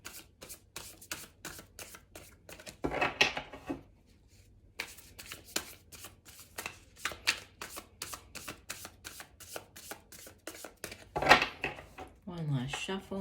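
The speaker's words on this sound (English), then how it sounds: "One last shuffle." Tarot cards being shuffled by hand, a rapid series of crisp riffling bursts and slaps, close up and steady, with a brief riffle burst near the end and a voice speaking at the close.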